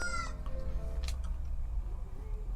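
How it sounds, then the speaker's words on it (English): Cartoonish chicken clucks and squawks from the Zelda game Majora's Mask, a burst of fowl calls up front over a steady bed of game music and effects that continues throughout. "They just turn into chickens like that."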